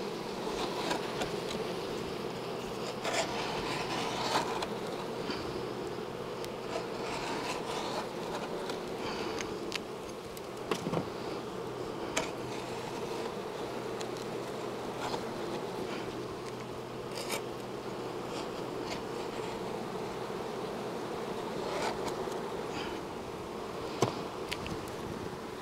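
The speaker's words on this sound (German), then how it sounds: "Und dann muss ich halt die Bienen noch abkehren oder abstoßen." Bees buzzing in a hive being cleaned out, a dense steady drone of many insects close by with scattered faint scrapes and rubbing sounds, no talking.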